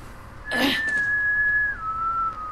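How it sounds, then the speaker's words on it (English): A single sustained whistle in the video game Borderlands 3, a clear tone that holds and then drops to a lower pitch, with a brief rush of noise at its start. "Stop whistling, damn it."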